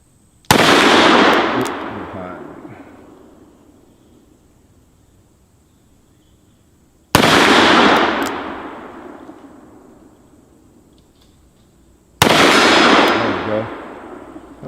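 Three thunderous blasts from a Smith & Wesson .460 XVR Magnum revolver fired outdoors, each a sharp, very loud crack followed by a long rolling echo, spaced several seconds apart, with no talking.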